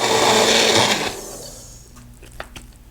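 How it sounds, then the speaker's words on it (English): A Magic Bullet blender mixing a drink in a mug whirs with a high, buzzing motor for about a second, then cuts off, leaving faint clicks and handling noises. "Now we're mixing with the mug"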